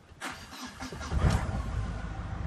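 A car engine starts with a few quick cranking pulses, then catches and settles into a steady idle, close and fairly quiet.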